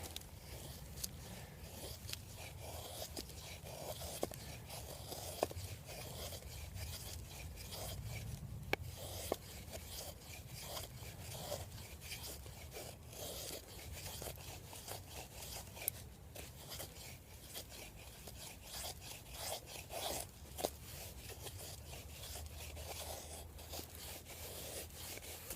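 An ESEE4 knife carves shavings from wood, producing a steady, close run of scraping and rasping strokes in an irregular rhythm across the whole stretch, with no talking.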